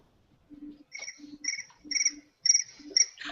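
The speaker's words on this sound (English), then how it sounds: "Damn crickets." Crickets chirp in repeated short bursts, a steady rhythmic trill pattern up close with no voices over it.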